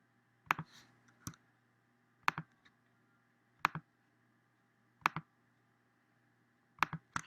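Five crisp computer mouse clicks, several in quick double taps, come at irregular intervals over a quiet background while selecting and cutting shapes in drawing software.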